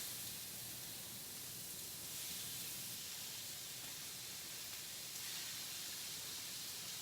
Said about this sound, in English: And it's sizzling, that is perfect.